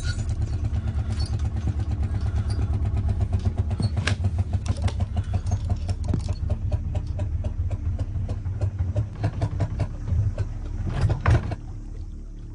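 A boat engine runs steadily on a Sundarbans river with a low, continuous throbbing drone and some rattling clatter, close and fairly loud, holding for over twelve seconds with no talk.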